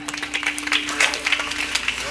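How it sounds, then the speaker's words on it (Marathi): At a Marathi harikirtan performed by an Indian Army jawan, listeners clap for Tukaram Maharaj in scattered, uneven bursts over a low electrical hum, the claps fairly close and irregular rather than a full roar. "तुकाराम महाराजांकरता एकदा टाळ्या होत्या"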